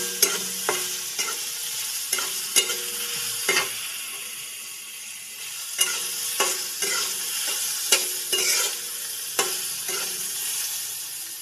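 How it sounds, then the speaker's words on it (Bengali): Soybean chunks sizzle steadily in hot oil with turmeric while a utensil scrapes and stirs the pan in irregular knocks and clatters, close by. "সয়াবিনটা ঢেলে দেবো, ভালো করে লাল লাল করে ভেজে নেব"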